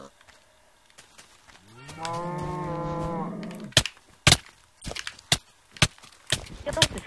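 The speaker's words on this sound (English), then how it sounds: "Hey, a cow." A single long cow moo rings out in Minecraft, followed by a series of sharp clicks and thumps.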